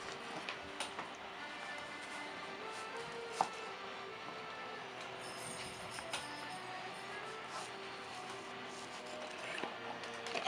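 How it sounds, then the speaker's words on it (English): A knife slices an onion into rings on a board, faint rapid ticking cuts repeating steadily over a low hum, quiet and close with one slightly louder tap. "going to cut the onion into rings like this"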